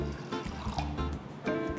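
Water splashes and trickles as it is poured into chana dal in a pot for cabbage kootu, a short, close, faint run of liquid sounds with small bursts.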